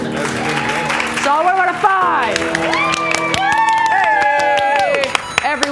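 A comedy show crowd claps and cheers loudly at a live Saturday night stand-up showdown, bursts of whoops and shouts mixed with a comedian talking over the noise.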